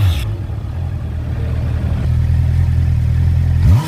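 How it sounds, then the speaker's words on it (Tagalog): A stock exhaust on a four-cylinder Honda CBR 650R motorcycle revs up loud and close, a steady low drone that swells and builds toward a sharp rising rev at the end, with no one speaking. "Lakas din ang ating stock exhaust, ano, dahil 4-cylinder to, malakas ang ating exhaust sound."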